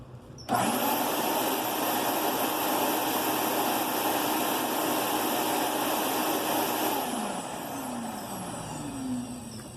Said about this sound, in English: when we turn the vacuum on to blow air through this system